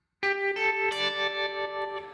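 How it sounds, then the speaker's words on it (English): Electric guitar run through a Line 6 Helix with basic tremolo plus a touch of delay and reverb, sustained chords pulsing steadily in volume, close and fairly loud with no voices. "I've just put a basic tremolo on there, played around with the speed and intensity, maybe a tiny bit of delay and reverb"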